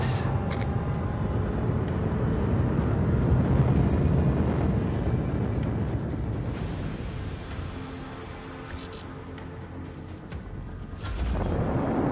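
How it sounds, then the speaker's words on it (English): Starship engines engaging in the video game Rogue Trader, a loud sustained roaring rumble that gradually eases off, then surges again near the end. "Engage the engines."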